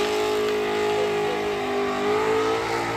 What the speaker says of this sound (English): Cletus has got this burnout done